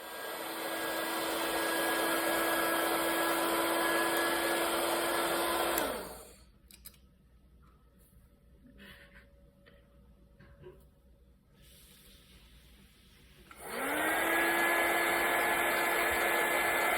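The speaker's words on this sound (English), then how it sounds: "I used a heat gun instead for easier operation. You simply blow in the direction of the capacitor for 20 to 30 seconds" A heat gun blows steadily on capacitors to desolder them during a Sony WM-DD1 Walkman restoration, a loud continuous whooshing hiss with a whine that runs for about six seconds, cuts out, then spins back up and continues.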